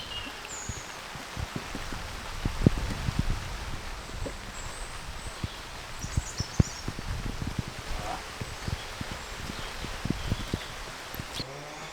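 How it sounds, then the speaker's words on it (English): Hard rain falls outdoors on a farm during a barn build, a steady dense patter with scattered sharper drops on nearby surfaces, continuous and fairly close throughout, no voices. "It's raining quite hard"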